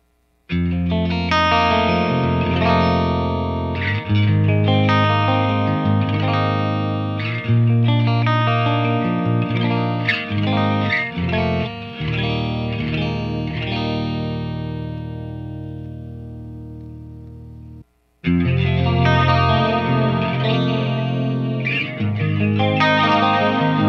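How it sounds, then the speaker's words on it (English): An electric guitar plays through a clean channel, first dry, then with chorus and delay pedals engaged, giving sustained chords and melodic notes with shimmering, echoing tails, a brief pause, then playing resumes with the effects on. "I'll show you the clean channel without the chorus and delay first, and then I'll go ahead and engage those so you can get a comparison."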